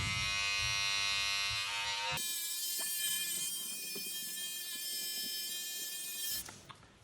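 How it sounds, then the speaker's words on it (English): A small electric beard trimmer works around the edges of a boy's haircut, giving a close, steady high-pitched buzz that shifts in tone as it touches the hair, then cuts off near the end. "So I'm going to go around the edge with the beard trimmer, or the little one."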